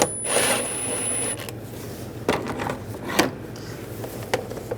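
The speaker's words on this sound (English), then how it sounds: "Using an 8 millimeter socket, loosen up this worm clamp." An 8 mm socket works loose a worm clamp on a 2011-2018 Ram 1500 radiator hose, giving a few close, sharp metallic clicks and scrapes spread over a few seconds against a quiet garage hum.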